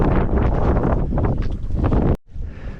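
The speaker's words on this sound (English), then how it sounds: "Oh, it's quite windy." Loud wind buffeting the microphone in rough gusts on a hiking trail near the summit of Mission Peak, California, cutting out abruptly near the end before a softer rush returns.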